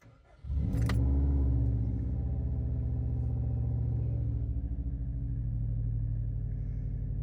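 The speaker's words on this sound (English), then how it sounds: "I'm going to start the car and just verify that my tack and everything is working fine." A Subaru WRX engine cranks and catches at once, then settles into a loud, steady, throbbing idle that runs on alone with low rumble and a faint key jingle at the start.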